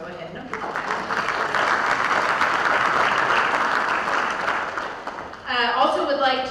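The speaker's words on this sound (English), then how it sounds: "You can go ahead and applaud." An audience at a community education event for a Chamber of Commerce gives a sustained round of applause lasting about five seconds, then a voice resumes speaking as the clapping fades.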